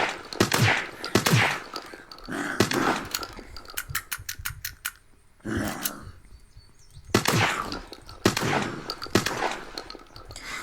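Benelli shotgun in the video game Unturned fires repeatedly, with loud blasts and quick mechanical clicks from pumping and reloading, including a tight run of rapid sharp clicks mid-sequence.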